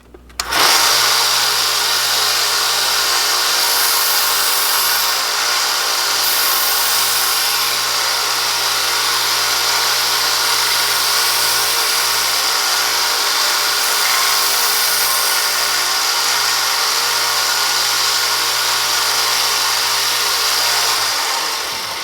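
A belt sander runs continuously while a knife blade is sharpened against it, a loud, steady whirring grind close by with no break from start to finish.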